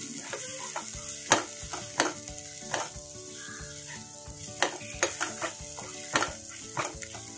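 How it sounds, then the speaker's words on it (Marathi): Onion masala sizzling in oil in a pan while being stirred for a Bombay duck dish, with a steady close fry hiss and repeated spoon scrapes, no voices. "अशा प्रकारे आपला मसाला परतून झालेला आहे"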